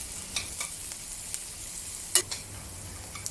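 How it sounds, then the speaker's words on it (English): Onion sautéing in a pan for Hong Kong style baked pork chop rice, a soft continuous sizzle broken by a few sharp scrapes and clinks of stirring, close and with no talking. "Saute the onion until it is slightly caramelized."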